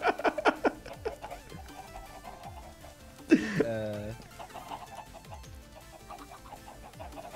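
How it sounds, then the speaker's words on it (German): Minecraft chickens clucking in a modded magic world, several quick bursts of clucks early on, then a louder squawking cluster midway, with softer game sounds after and a voice talking at times. "Die Hühner."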